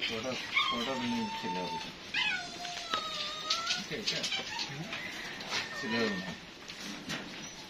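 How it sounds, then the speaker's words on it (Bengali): Several dogs in a pet shop whimper and yelp in short bursts at close range, mixed with mewing and overlapped by people talking throughout. "এখানে অনেকগুলো ডগ আছে, উনি পছন্দ করে ছোটটা নেবেন।"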